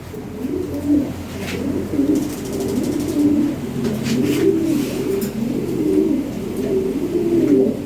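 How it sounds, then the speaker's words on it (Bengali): Lahori Sherazi pigeons of European ring bloodline coo close by, several birds giving repeated rolling, throaty calls that overlap almost continuously, with occasional flutters and light rustling. "top quality original European ring ব্লাডের কবুতর"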